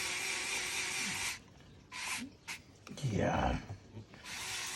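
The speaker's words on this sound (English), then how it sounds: "And the lazy man screwdriver." An electric "lazy man" screwdriver runs in short bursts, a buzzing motor whir at the start and end, while someone talks briefly in between.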